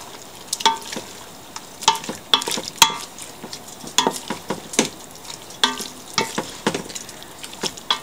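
Chicken fried rice with vegetables being stirred in a hot pan after a spoonful of soy sauce is added, a steady loud sizzle broken by repeated scraping stirs, with no talking.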